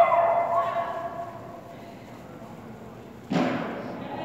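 A dog barks under a man's speech, with a strong bark at the start and another loud burst near the end of the short clip.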